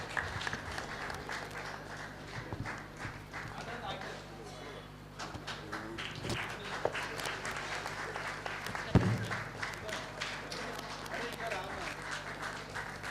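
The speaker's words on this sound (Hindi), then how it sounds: "बजती रहे तालियां जोरदार।" An audience at an Agrasen Jayanti event applauding a book release: scattered, fairly faint rhythmic clapping running throughout, with voices and crowd noise mixed in and a sharp knock near the middle.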